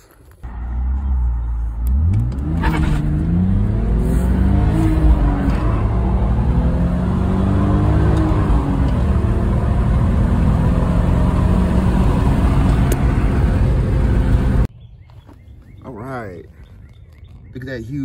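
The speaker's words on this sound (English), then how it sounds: "Time to go for a test drive." A BMW E46 drives off on a test run after a brake fluid flush, its engine revving up through gears with a steady, loud road and engine drone up close for about twelve seconds, then dropping to quieter idle.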